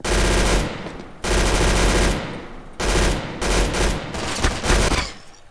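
Rapid automatic gunfire from a first-person shooter video game comes in several loud, sustained bursts separated by brief pauses, with no talking over it.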